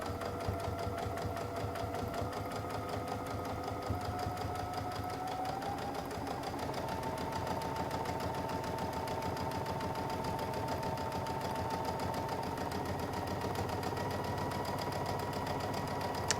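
A Baby Lock Altair sewing machine stitches steadily with a bias binder foot, feeding the fabric strip itself in a continuous, close, even mechanical hum with rhythmic needle clatter and a slight rise in pitch midway.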